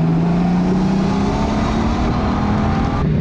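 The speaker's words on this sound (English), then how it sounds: "Now I can upshift just by a click right there." A Honda Goldwing motorcycle under way, its engine drone loud and steady with wind rush over the top and a slight pitch change near the end as it clicks up a gear.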